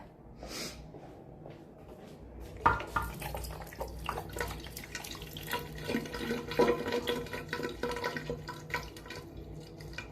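Water poured and sloshed out of a container into a sink during an Airbnb checkout cleanup, a steady splashing flow with some clatter, fairly close and moderately loud, without talk.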